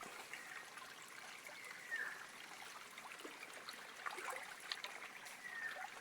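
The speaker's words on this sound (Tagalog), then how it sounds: "Mayroong maliit na waterfalls." A small waterfall flows steadily outdoors, a faint, continuous wash of trickling water with no speech over it.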